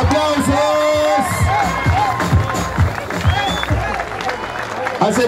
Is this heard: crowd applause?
yes